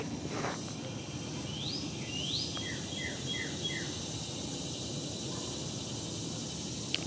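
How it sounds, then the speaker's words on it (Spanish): Birds singing outdoors, a few short rising chirps and a run of quick descending notes, faint and distant over steady insect-like hiss and background noise. "aquí se escuchan bastantes pájaros"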